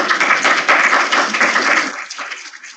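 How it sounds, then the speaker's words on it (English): Audience applause after a short talk on Antarctica at a UK education conference, a dense, steady wash of many hands clapping that holds loud, then thins out and fades toward the end. "Let's give another round of applause"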